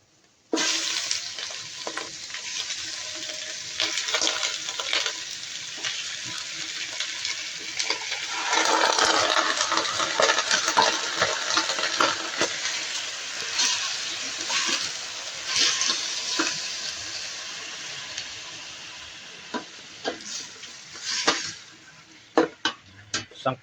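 Chicken hits a thin cooking pot for tinola and sizzles into a loud, rushing fry that holds steady, with occasional clinks and stirring before it fades toward the end.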